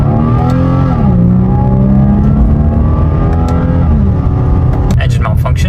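A turbocharged car on a budget 400 whp build is floored from inside the cabin, its engine note climbing through loud revs, with a shift and renewed rise before it sputters at the end.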